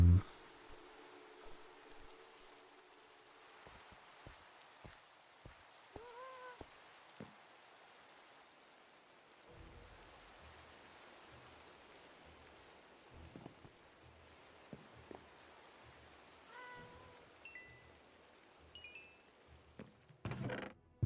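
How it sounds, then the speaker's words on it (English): Rain falls in Minecraft as a soft, faint steady patter, broken by scattered clicks, short tones and brief game effects. "Raining."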